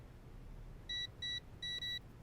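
A safe's combination keypad in the video game WWE 2K20 gives four short electronic beeps, the last two close together, over a low background hum.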